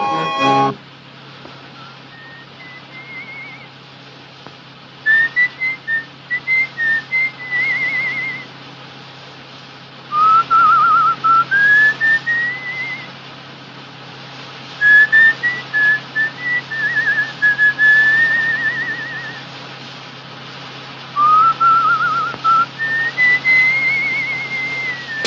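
A person whistling a short repeated tune in phrases separated by pauses, clear and close over a low steady hum in a quiet room.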